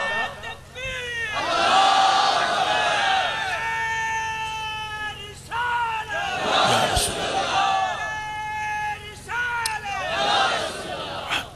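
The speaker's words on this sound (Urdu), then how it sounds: "ہر دفعہ نعرہ لگانے کی ضرورت نہیں ہے۔" A large crowd at a religious conference chants naara slogans in loud, repeated unison calls, three swelling waves of massed voices with brief pauses between them.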